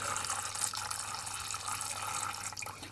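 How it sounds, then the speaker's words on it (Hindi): A small pump forces water through a narrowed tube on a homemade Peltier water block, giving a steady, close hiss and rush of pressurized flow with a faint low hum beneath. "मैं आपको जो ट्यूब है उसको पतला करके भी दिखा देता हूँ, देखो कितना ज़्यादा पानी को प्रेशर है"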